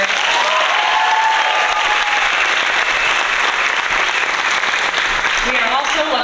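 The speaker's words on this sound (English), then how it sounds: "Let's give a big round of applause for Roger." An audience at a middle school arts camp performance applauds in a full, sustained burst of clapping, with a voice talking faintly beneath it.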